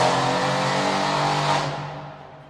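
A Mercedes C63S AMG with its M177 4-liter BiTurbo V8 revs loudly up close, a sustained roar that holds steady and then falls away as the engine winds down.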